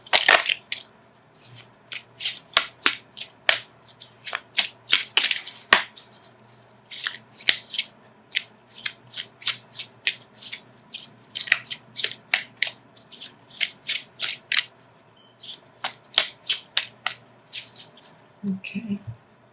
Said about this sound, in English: So let me shuffle for an outcome card.